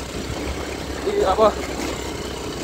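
A motorbike engine labours up a steep hill in a low, steady drone, with a man's brief speech over it.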